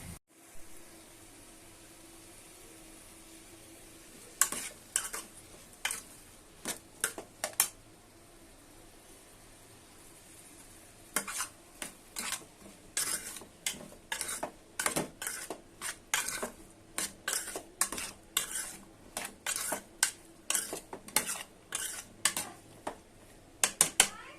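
Spoon scraping and clattering in a pan as turmeric, salt and ginger garlic paste are mixed for a brinjal, potato and tomato curry, intermittent close scrapes and taps in irregular bursts over a low background hum, after a quiet stretch and a pause midway.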